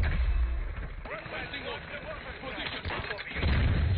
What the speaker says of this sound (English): I dropped a mortar right there.